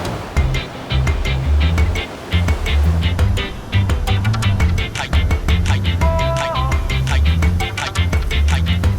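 Loud, continuous rushing surf with a deep rumbling roar as big waves break close by, overlaid with gusty wind noise.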